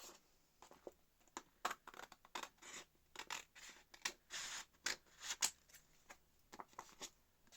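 Small scissors snip around the edge of a handmade fabric swap tag, a close, quiet run of short irregular cuts with brief pauses, no voice.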